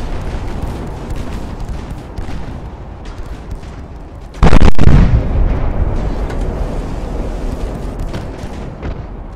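Warship shelled and blown up in the naval game Ultimate Admiral: Dreadnoughts, with one sudden loud blast midway over a steady rumbling battle din of distant gunfire, then a long roaring tail.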